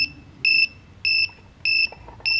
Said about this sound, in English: I have my buzzer going off telling me that there's no signal because the transmitter's off.